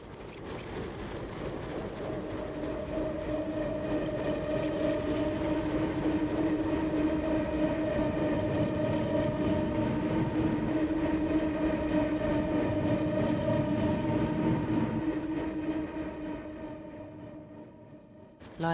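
Train rolling past on a railway, a long steady rumble with sustained tonal whine that builds, holds for many seconds and then fades, with no voices.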